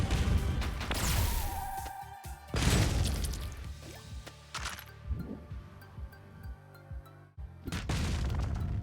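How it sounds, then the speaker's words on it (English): Explosions in the video game Streets of Rogue boom and crash repeatedly, with loud blasts near the start and end and smaller crunching debris impacts in between. "explosions by the player don't harm the player"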